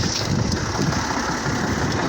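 A tractor engine idles with a steady, rumbling drone that stays constant throughout, while a voice is faintly audible over it.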